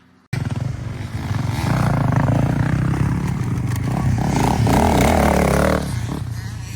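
Motocross dirt bike taking a corner on the rear brake, its engine droning loud and close with scraping, clattering dirt noise throughout and a slight rise in revs near the end.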